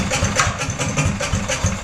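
A Harbor Freight Predator 420cc small engine fitted with a custom exhaust stack idles close by, its steady low chugging thump a loping, regular beat of about four pulses per second and nothing else over it.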